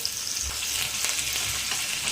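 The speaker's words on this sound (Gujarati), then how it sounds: "રાઈ આપણે તતરી ગઈ છે" Mustard seeds crackle and pop in hot oil, a close, continuous bright sizzle with scattered sharp spits.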